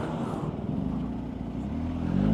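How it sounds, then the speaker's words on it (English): A tractor engine rumbles steadily close by as it drives past, a low droning growl that swells slightly louder toward the end. "Bloody tractors everywhere."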